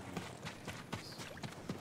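A horse in the video game Ghost of Tsushima trots with rhythmic clip-clopping hooves, steady repeated thuds at a quiet level with no talk over them.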